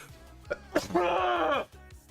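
A single loud, close sneeze bursts out after a couple of short sharp inhales, ending in a drawn-out voiced tail before falling quiet.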